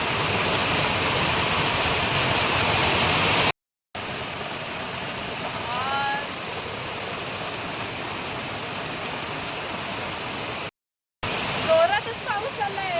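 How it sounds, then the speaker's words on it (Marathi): Sudden first monsoon rain in the Konkan pours down as a dense, steady hiss close by, briefly cut by short gaps, with someone talking over the downpour. "आधी वातावरण केलं पावसाचं आणि अचानक पाऊस आला."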